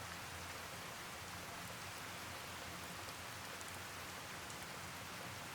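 Steady rain falls in the video game Fallout: New Vegas, a dense, even hiss of drops striking surfaces that continues unbroken throughout with no voices.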